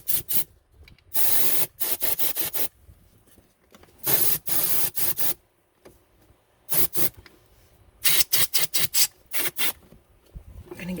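Repeated short bursts of aerosol cleaner spraying a wiring harness on a 2004 Saturn Vue J35 V6, hissing in quick puffs of varying length with brief pauses between, close to the microphone and no talking.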